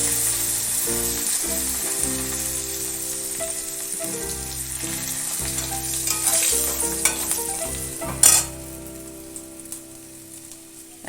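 Chopped garlic dropped into hot oil for a fish-head and radish curry, frying with a loud, continuous crackling sizzle, a low hum underneath and a sharp clatter near the end.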